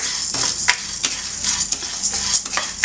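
Chana dal frying in a pan with a little oil for sambar powder: a steady sizzle broken by repeated scraping and stirring clicks of a spoon against the pan, close and fairly loud.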